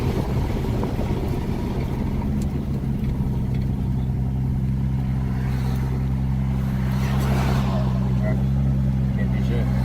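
Steady, loud engine drone from a big-turbo car on a test run, with a dense low hum that holds throughout and occasional rushing noise, while people talk inside the cabin.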